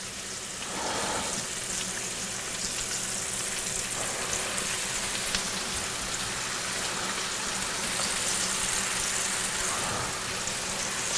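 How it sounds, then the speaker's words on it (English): Pieces of bacon frying in a pan, a steady, moderately quiet hiss and crackle with no break from start to end. "Just gonna do a few pieces of bacon, just make some nice big bacon bits for a couple salads."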